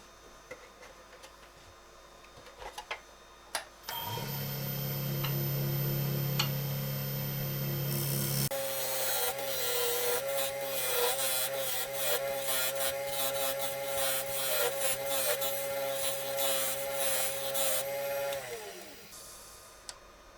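Wood lathe spinning an off-centre walnut bowl while a pointing tool cuts decorative lines on its side: a steady droning hum with a rapid rhythmic ticking and scraping of steel on wood, loud and continuous after a quieter start.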